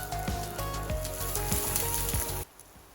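Radish mini pancakes frying in oil make a continuous close sizzle with soft popping and crackling, which drops away sharply near the end, with no speech.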